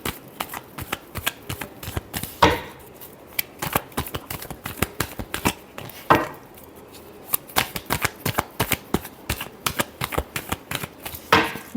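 Tarot cards being shuffled by hand, a rapid run of crisp riffling clicks with three louder bridging snaps spaced a few seconds apart, close and clear with no voices.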